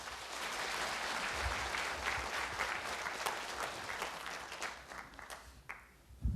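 Audience applause welcoming a speaker at the opening ceremony of a Buddhist seminar, a dense sustained round of clapping from a large hall crowd that tapers off near the end.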